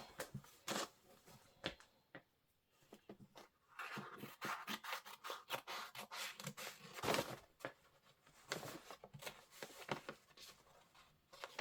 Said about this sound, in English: I'm going to cut my stabilizer away.